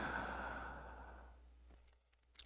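A slow, soft breath drawn in during a yoga breathing exercise, a faint airy inhale that fades out under a low steady hum, with no talk.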